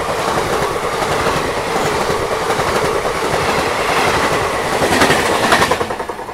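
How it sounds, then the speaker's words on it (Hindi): The Kalka Howrah Netaji Express running on Indian rails: loud, steady rumble with rhythmic clickety-clack of wheels over joints, heard from on board, swelling slightly near the end. "नेताजी एक्सप्रेस है, कालका हावड़ा नेताजी एक्सप्रेस।"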